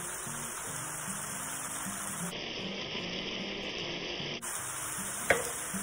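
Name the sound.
stirring flour into sizzling beef mixture in a pan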